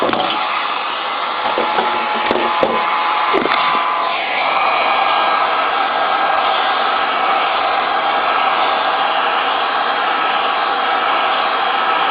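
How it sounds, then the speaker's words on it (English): A heat gun blows steadily and loudly on a circuit board during a rough reflow, a continuous even hiss with a few faint clicks and knocks early on as the board is handled and flipped. "When you're actually doing the full heat gun, you're going to want to do it for about 15 seconds on each side."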